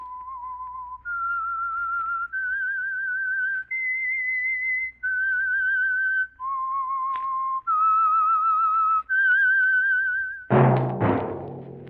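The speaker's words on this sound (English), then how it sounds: "That whistle is your signal for the Signal Oil program, The Whistler." A lone whistler carries the theme tune of the radio program The Whistler for Signal Oil: a clear, steady melody of held notes stepping up and down, ending in a short burst of noise.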